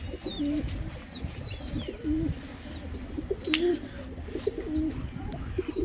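Pet pigeons, a breeding pair kept with eggs in a nest box, coo repeatedly in soft, low rolling calls, with faint chirps and light background noise around them.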